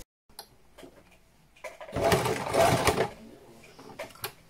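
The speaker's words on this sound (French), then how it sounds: "je viens coudre bien au bord du biais pour assembler les deux morceaux" A sewing machine stitches fabric close to the edge of bias binding, starting with soft ticks and then running in a loud, steady burst for about a second before slowing to lighter clicks.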